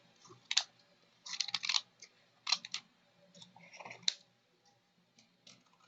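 Scissors snip off the ends of paper window envelopes in a run of quick, crisp clicks and crunchy cuts, close and fairly quiet, with brief pauses between snips.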